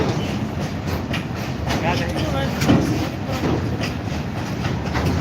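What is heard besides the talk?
freight train passing Nirmali railway station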